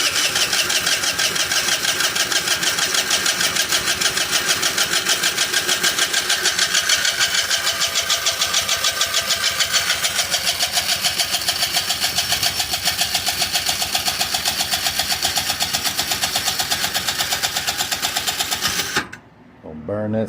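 A GY6 scooter engine is cranked on its electric starter without catching, giving a loud, fast, steady whirring churn that runs nonstop for nearly twenty seconds before stopping abruptly.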